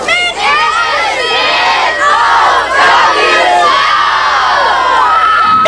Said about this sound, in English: A snow cheer from these Cherokee County students.